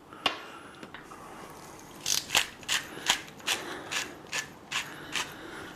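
Pepper being ground over a raw roast beef by hand, a run of about ten rhythmic, close ratcheting grinder twists heard alone in a quiet kitchen.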